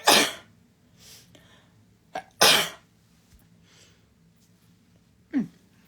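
Two sharp sneezes burst out close by, one right at the start and another a couple of seconds later, followed by a few soft breaths and a brief sniff.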